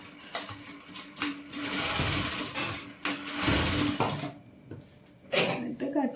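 A sewing machine stitches a seam on a frill kurti in short bursts of dense mechanical whirring, stopping and starting several times, close and fairly loud, with brief pauses between runs.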